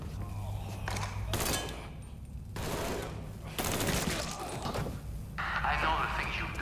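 Gunfire in the Mafia 3 video game, repeated bursts of shots mixed with loud action effects and game dialogue voices throughout.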